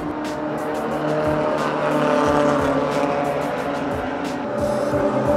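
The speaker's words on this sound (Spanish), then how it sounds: "Ahorita están corriendo los Corvettes" Corvette race cars running at the Mexico City Historic Grand Prix, heard from the pit lane as a steady loud engine roar with repeated passes and faint tire noise, and no talking.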